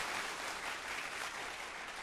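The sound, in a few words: applause sound effect on radio show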